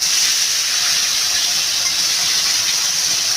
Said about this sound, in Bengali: তেলটা আমার গরম হয়ে গেছে আমি মাছগুলো দিয়ে দেবো